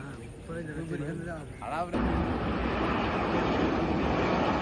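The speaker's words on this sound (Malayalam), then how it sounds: "ഫ്ലൈറ്റ് ടേക്ക് ഓഫ് ചെയ്യാൻ വേണ്ടിയുള്ള ടൈനിങ്ങിലാണ്" A voice speaks briefly, then a loud, steady jet engine roar of an airliner taxiing for takeoff at Calicut airport takes over and holds, close and continuous.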